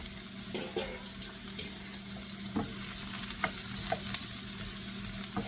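Mushrooms and scallions sautéing in a pan for an Asian pork and peas dish, a soft steady sizzle with occasional light scrapes and clicks of stirring, moderately close, with a faint background hum and no talk.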